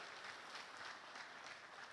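Applause from an audience at a hackathon grand finale, a steady wash of clapping held at a faint, distant level throughout.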